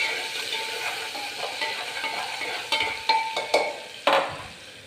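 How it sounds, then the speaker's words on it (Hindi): Garlic and onion are stirred in a frying pan, with a steady sizzle throughout and a few sharper spoon scrapes and clinks against the pan toward the end. "लहसुन प्याज डाल दिया हमने, अब सब मिला लेंगे।"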